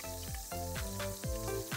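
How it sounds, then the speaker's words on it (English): Cumin seeds sizzle in a ladle of hot oil in a pressure cooker for Kashmiri rajma, a continuous close-up frying hiss with faint stirring scrapes. "the oil is nice and the cumin seeds are sizzling"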